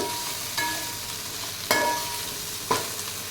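Mint, ginger-garlic and green chilies frying in oil and ghee for biryani, a soft continuous sizzle punctuated by three distinct scraping stirs of a spoon in the pan.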